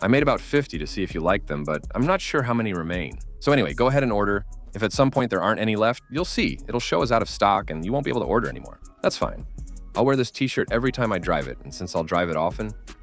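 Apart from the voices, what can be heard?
None of the usual background noises is heard.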